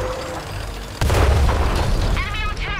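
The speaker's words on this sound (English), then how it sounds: "The artillery's found me again." In World of Tanks, an artillery shell slams into a Matilda tank with one sudden loud boom and a heavy rumbling aftermath, over a steady engine drone with faint speech.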